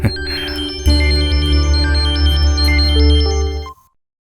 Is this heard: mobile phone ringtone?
yes